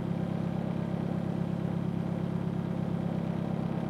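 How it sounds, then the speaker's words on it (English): A Nissan 240SX idles while warming up, its engine giving a steady, even low rumble that holds constant throughout with no revving. "I'm gonna let the car warm up right now"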